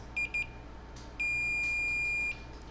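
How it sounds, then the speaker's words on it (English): A continuity tester probing a motherboard gives two short beeps, then one longer sustained tone lasting about a second, clear and close over a quiet background. "we know we're in the right spot if we get a beep on these guys, which we do"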